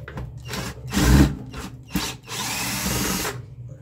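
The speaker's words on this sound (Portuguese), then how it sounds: "eu tenho quatro parafusos fixos para ser retirado" An electric screwdriver backs screws out of a Multilaser electric air fryer that runs but won't heat, several close, loud whirring bursts of varying length separated by short pauses.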